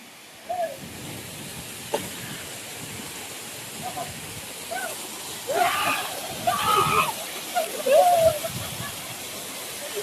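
Water rushes steadily at Kaigal waterfall, a wide, even hiss heard throughout, with short bursts of talk and brief clatters over it.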